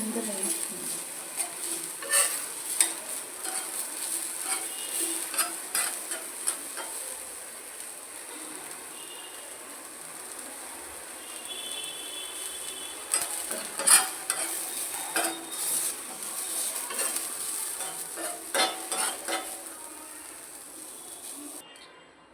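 Chopped onions frying on a high gas flame as a breakfast dosa is made, with steady sizzling and repeated scraping, clattering stirs of the pan throughout, close and fairly loud.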